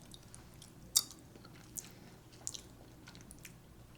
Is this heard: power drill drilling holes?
no